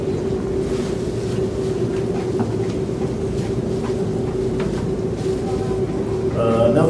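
A diesel tractor engine runs at a steady idle, giving a continuous, close, droning rumble with a constant hum and no talk over it.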